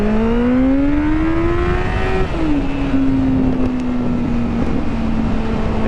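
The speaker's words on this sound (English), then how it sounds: "Time for a launch control." A motorcycle engine revs hard under launch control, its pitch climbing steadily, briefly dipping, then holding a loud sustained drone, close by with wind rush behind it.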